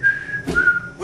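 A man whistles a steady sustained tune while cleaning toilets as a janitor, a clear near whistle with a brief breathy break midway.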